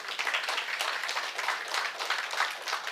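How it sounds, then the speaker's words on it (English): Audience at an antique radio society meeting claps for a member, a modest round of applause with uneven, fluttering hand claps at moderate distance, continuous throughout. "a round of applause for his efforts"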